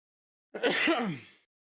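A single short, sharp burst of breathy noise, like a sneeze, close by in an otherwise silent moment.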